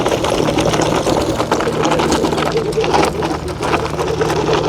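A vehicle driven by dual Varstom motors climbs a hill at full throttle, giving a loud, continuous high-pitched motor whine with a steady drone close by and brief talk mixed in.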